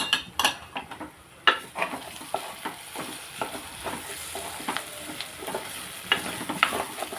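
A raw mango fish curry is stirred in a sizzling pan, with a spoon scraping and clinking against the metal in irregular strokes over a constant close bubbling fry.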